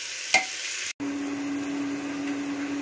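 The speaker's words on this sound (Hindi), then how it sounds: "उसके बाद प्याज को डाल रहे हैं, उसके बाद तेजपत्ता डाल रहे हैं। अब इसको थोड़ा देर तक चला लेते हैं दोस्तों" Onion and bay leaf fry in a pot while being stirred, giving a steady sizzling hiss with a short scrape near the start and a brief break before the frying resumes.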